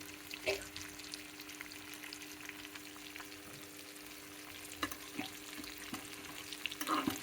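Fish pieces deep-fry in oil over a medium flame, giving a soft continuous bubbling sizzle with occasional light clicks and taps, quiet and without speech.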